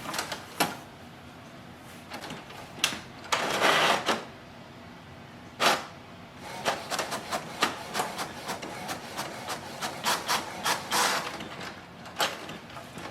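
Canon MAXIFY GX7050 inkjet printer running a print job, with repeated sharp mechanical clicks and clacks, a few longer whirring paper-feed passes and rapid ticking of the carriage, fairly close and without talk.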